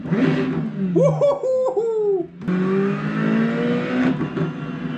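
A Ferrari Challenge GT3 car engine in a racing video game, revving and shifting through gears with rising tonal whines, a brief dip then a sustained high-pitched acceleration drone, loud and close, alone.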